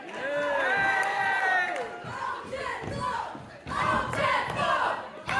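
Wrestling crowd at a House of Pain Wrestling show in Beeston buzzes and cheers loudly, with shouts and whoops rising and falling in waves, mixed with voices close by.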